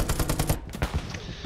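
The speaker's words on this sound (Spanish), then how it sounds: "¿En serio me está disparando con una MG?" A World War II machine gun fires in Hell Let Loose, a rapid burst of close, loud rounds that stops abruptly, followed by a couple of distant shots and echoing tails.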